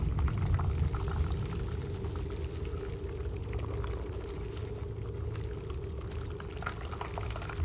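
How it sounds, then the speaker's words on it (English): Continuous crackling and bubbling liquid in a strange video game location, a dense steady fizzing and popping bed that stays at even loudness throughout with no voices over it. "And they're all like, they're like cracking and bubbling and shit."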